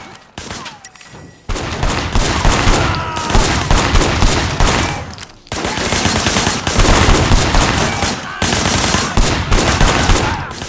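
Sustained bursts of gunfire from a Sleeping Dogs shootout at a crime scene with a van, loud and dense, with rapid volleys running almost continuously after a brief quiet opening.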